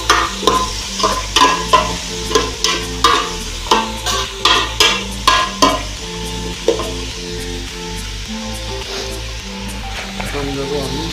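Onions fry in a pan for a meat dish, with a sizzle under rhythmic, fairly loud spoon scrapes that come quickly at first and then slow and fade. A voice talks over part of it.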